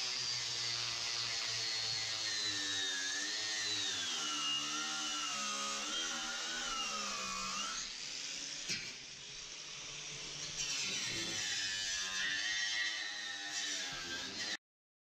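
A 4.5-inch angle grinder spins a wire wheel against welded steel reinforcements to clear weld slag, a steady high whine that sags and recovers under load, continuous and fairly close before cutting off.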